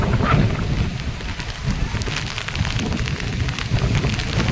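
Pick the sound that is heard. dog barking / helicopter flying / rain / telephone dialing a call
rain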